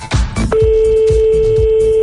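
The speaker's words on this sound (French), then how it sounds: "Il reste une sonnerie, allez, on en laisse une." A telephone line ringing unanswered during a morning radio call-in, with a steady, loud ringback tone repeating in pulses under a brief moment of talk at the start.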